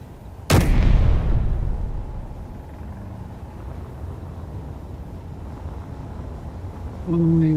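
Arm guns firing in the game Space Engineers: one loud, sharp, booming shot near the start that rumbles and fades slowly into a steady low engine-like drone.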